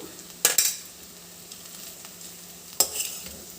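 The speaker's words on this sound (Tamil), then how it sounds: "இப்போது நல்லா உப்பு போட்டு நல்லா கிளறியாச்சு" A spoon stirs potatoes with salt and turmeric in a pan for potato podimas, and two sharp scraping clacks stand out over a quiet, low sizzle.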